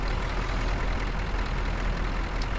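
A truck engine in Euro Truck Simulator 2 idles with a steady, low diesel rumble that holds even and continuous throughout, with no talking.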